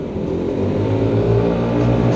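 Kymco scooters, a flagship G7 against a new RTS, launch hard in a drag race, a loud sustained engine drone climbing steadily as they accelerate close by.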